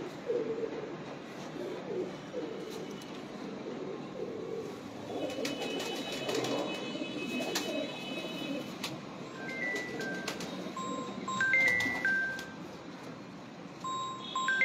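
Pigeons coo softly and repeatedly close by, mixed with occasional chirps and light ticking sounds in a steady ambient background.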